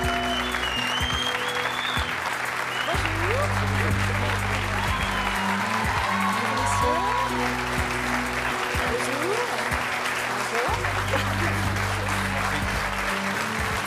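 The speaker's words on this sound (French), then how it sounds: "Je vous demande de les applaudir" A French television talk show studio audience breaks into sustained applause that holds steady throughout, while a host speaks over the clapping with music beneath.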